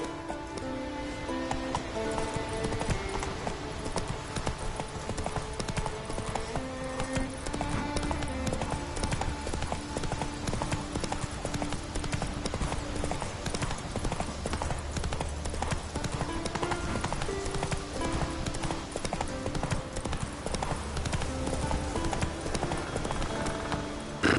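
Roach the horse gallops in The Witcher 3 with a steady, fast clip-clop of hooves running through the whole stretch, fairly close and loud beneath continuous game music.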